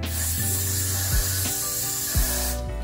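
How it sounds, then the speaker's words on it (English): Aerosol spray hisses continuously onto a wig cap, close and steady, with a few short rubbing bumps as the can or hand moves. "I'm gonna go ahead and spray the wig cap down like this."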